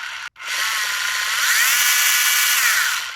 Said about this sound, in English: I wired up the motor to that brushed ESC. Moment of truth. Nothing smoking. Throttle's working.